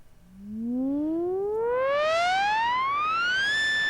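Novation Peak synthesizer patch with its filter swept by an LFO, a loud steady tone whose bright harmonics rise smoothly in pitch over about three seconds, then hold, with no talking.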